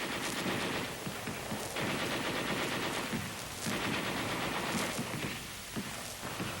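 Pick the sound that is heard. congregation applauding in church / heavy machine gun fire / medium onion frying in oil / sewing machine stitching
heavy machine gun fire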